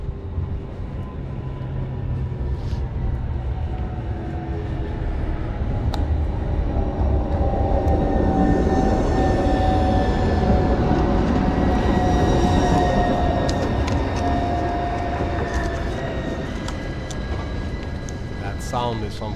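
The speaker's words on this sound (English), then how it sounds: "the sound of the trams when you're out photographing" Trams rolling through the streets of Gothenburg give a continuous low rumble with steady whining tones and metallic squeals, swelling and fading over nearly twenty seconds amid general city noise and faint background voices.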